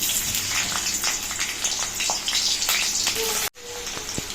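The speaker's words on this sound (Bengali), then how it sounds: "এখন আমি তেলটা গরম হয়ে গেছে আর এর মধ্যে দিয়ে দেব কুচিয়ে রাখা পেঁয়াজগুলোকে।" Chopped onions hit hot mustard oil in a wok, giving a dense, steady crackling sizzle close by with scattered pops, which cuts off abruptly near the end before resuming slightly softer.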